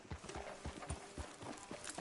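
Horse hooves clip-clop at a steady walking rhythm in the Red Dead Redemption 2 video game, quiet and moderately close, with no speech.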